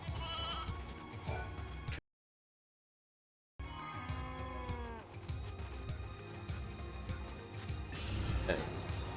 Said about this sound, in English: Again, to make that sheep come here.